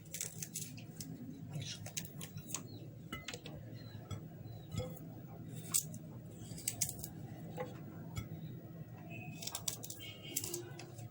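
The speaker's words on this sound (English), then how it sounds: "So I'm going to cut my ginger into pieces." A knife cuts ginger into pieces on a board, with quiet, irregular tapping chops and clicks spread through the stretch, fairly soft and close.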